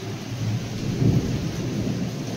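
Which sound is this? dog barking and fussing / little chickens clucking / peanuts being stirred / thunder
thunder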